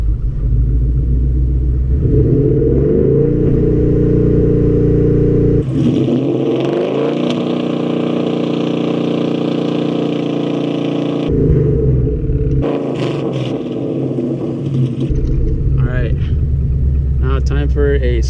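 A car with a 5.0 motor revs and accelerates in second gear, its loud engine note climbing in long sweeps and dropping between pulls, with a voice speaking over it.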